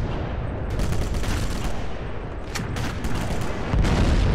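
Gunfire in Sniper Elite during a wartime battle between Russian and German forces: a steady volley of shots over rumbling background noise, with a couple of sharper cracks near the end.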